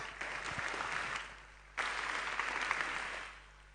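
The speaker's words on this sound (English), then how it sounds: "Another round of applause for our sponsors, guys." An audience at a hackathon final-round pitching event claps for the sponsors, a fairly distant wash of applause that dips briefly and then swells again before fading.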